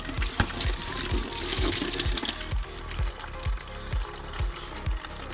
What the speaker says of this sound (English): So we're having to drain the coolant